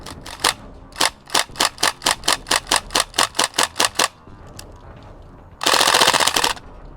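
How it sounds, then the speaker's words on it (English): A Northeast airsoft Uzi with an aluminium bolt firing BBs: a long, even string of sharp, close clicking shots, then a brief pause and one dense rapid burst, with no talking. "Yes, it's spewing the BBs off with a rapid pace"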